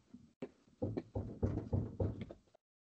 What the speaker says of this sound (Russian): Нет, стучат. Вот сейчас постучали.